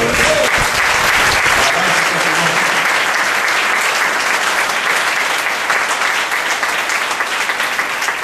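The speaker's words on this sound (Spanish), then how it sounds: "Den un aplauso al Señor." A church congregation breaks into loud, full applause during a sermon. The clapping is thick and sustained from start to finish, with a brief voice at the very beginning.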